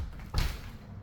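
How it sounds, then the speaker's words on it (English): French doors on an Amish-built cabin swing open with a single soft thump and brief rattle, close and fairly loud, followed by quiet room tone. "you can open up these French doors"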